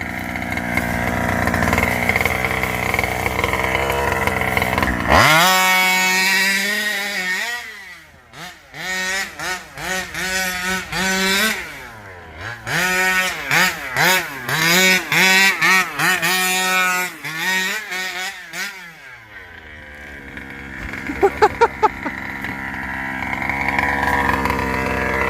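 A gas-powered RC Baja with a new exhaust pipe revs hard and close. Its buzzy two-stroke engine note climbs and drops in repeated bursts, then falls silent before idling briefly near the end.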